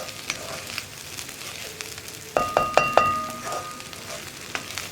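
Grated carrot and coconut are stirred in a hot pan for carrot egg thoran, giving a steady close sizzle with a quick burst of spatula clinks and scrapes partway through and no talking.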